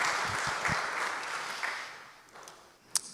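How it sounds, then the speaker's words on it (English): A room of guests at a launch event at the Ulster Transport Museum gives a fairly quiet, steady round of applause that thins and fades toward the end, with one brief sharp knock near the close. "we'll give a big round of applause to yourselves"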